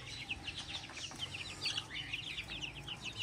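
Many chicks peep in a constant high chatter, with softer hen clucks mixed in, steady and close throughout.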